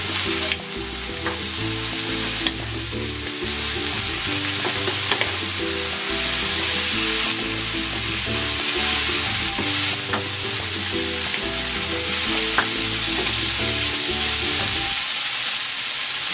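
Sliced bitter gourd (ampalaya) frying with shrimp paste (bagoong) in a pan, a steady close sizzle running throughout, with light stirring clinks and background music underneath.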